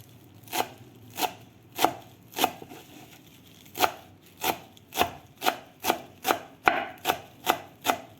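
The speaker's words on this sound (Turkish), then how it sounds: "ben bunu da güzelce bir küçük küçük doğrayacağım." A knife chops parsley steadily on a cutting board, a dozen crisp close knocks in an even rhythm that quickens toward the end.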